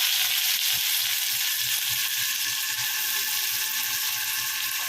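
Finely chopped onion frying in a pan, a dense, even sizzle holding steady at close range, with faint soft knocks underneath.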